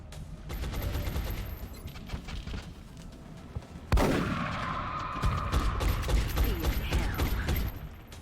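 Shotguns blast against chrysalids in an XCOM-style tactical game, a series of sharp reports followed by a sudden loud crack near the midpoint and sustained ringing impact noise afterward.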